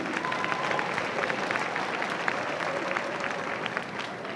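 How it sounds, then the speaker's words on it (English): A school assembly audience applauds steadily for the girls' team after its win over Pueblo West, a dense crowd clapping at even loudness throughout without a break. "so let's give that a round of applause"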